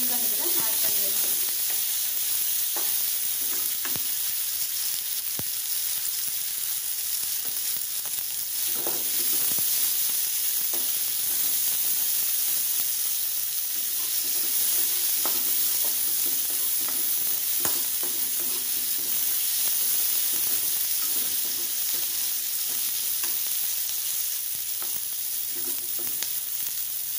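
Baby corn sautés in a pan with a constant, loud frying hiss. Soft stirring scrapes recur throughout, with no speech.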